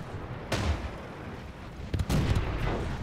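Tank cannons fire in the World of Tanks video game, including a French AMX 38, giving two sharp blasts about one and a half seconds apart, each with a short rumbling decay over steady battle background noise.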